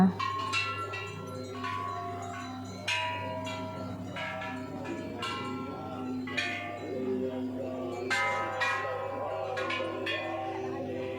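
Temple bells ring repeatedly at a Thai Buddhist temple, with overlapping metallic strikes and long resonant tones, sustained over a steady low hum throughout.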